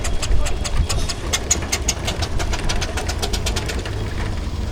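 A Garrett steam traction engine built for road haulage runs at a fairground arena, giving a steady, rapid beat of sharp chuffs or clanks over a low rumble, moderately near.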